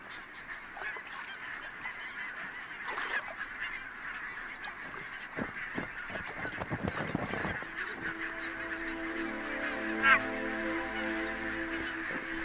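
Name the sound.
barnacle geese honking while roosting on mudflats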